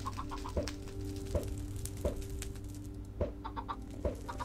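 A chicken in a Minecraft-style video game clucks in steady, repeated short notes, spaced about a second apart over a busy, constant background hum.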